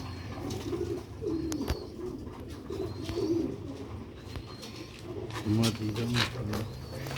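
Old Sialkoti pigeons of a pure line coo in low, repeated throaty phrases, with a louder burst of cooing near the end over a steady background bustle.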